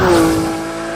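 A Porsche 911 GT3 of the 991 generation with a PDK gearbox revs hard toward its 9,000 rpm redline, a loud, steady, high-pitched engine wail that eases slightly in volume as it holds near the top.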